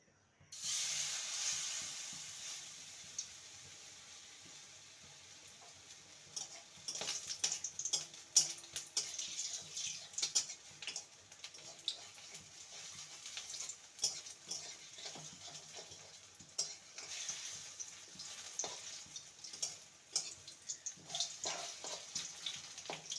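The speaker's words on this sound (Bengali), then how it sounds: "এবার মোচার অংশগুলো ব্যাটারে ডুবিয়ে তেলে ছেড়ে দেবো" Banana flower pieces coated in batter sizzle and crackle in hot mustard oil, a steady close frying hiss with scattered sharp pops and ticks that swell as more pieces go in.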